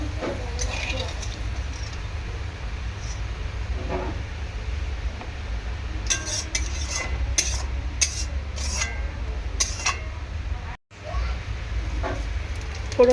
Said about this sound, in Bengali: আগে ফোড়নটা ফ্রাই হয়ে যাক